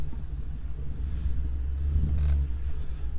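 Thor Four Winds 28Z Class C gas motorhome from 2021 with a 7.3 liter V8 engine, driving with a steady low engine rumble and road noise that swells briefly, close and without talk.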